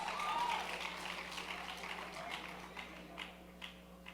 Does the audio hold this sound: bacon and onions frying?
no